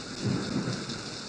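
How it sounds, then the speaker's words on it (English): Thunderstorm with rain: steady, dense rainfall hiss with a low rumble of thunder rolling underneath, even and continuous with no voices. "this is a thunderstorm video"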